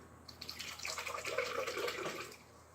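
Water poured into an Oster 16-speed blender jar, a faint, short splashing trickle that swells briefly and tails off, heard alone.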